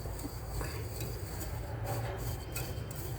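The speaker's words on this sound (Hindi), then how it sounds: "अच्छे से मिक्स कर देते हैं इन सबको" A spoon scrapes and clinks steadily in a bowl while hot chocolate powder mix is stirred, a continuous close-up rustling and scraping with small metallic taps and no voices.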